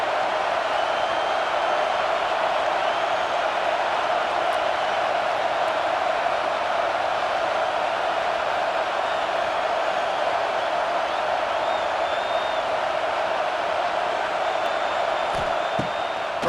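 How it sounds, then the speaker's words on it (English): Stadium crowd noise in EA Sports College Football 26 swells as fans rally behind the defense on third down, a steady, dense roar with faint cheers and whoops held at a constant loud level throughout. "Decibels rising as the crowd gets behind this defense on 3rd down."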